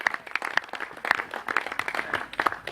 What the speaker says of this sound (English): A round of applause for the girls